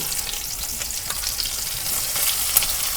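Dried fish sizzling and frying in hot oil with spices and chopped onion, a steady crackling hiss close by with light stirring scrapes, no talking.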